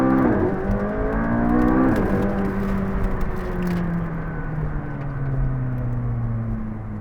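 A McLaren 675LT engine revs up and accelerates hard on a street, its pitch climbing through gear shifts with a loud, steady roar close by.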